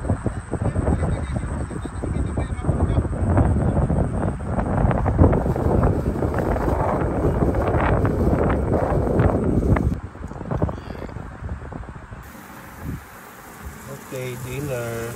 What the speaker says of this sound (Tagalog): Lakas ng hangin guys, tinatangay yung tent nila.